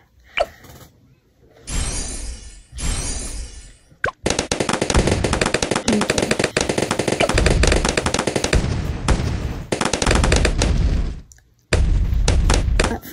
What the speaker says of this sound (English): Next, I'm gonna get faster barrel spin on my better upgraded darling gunner.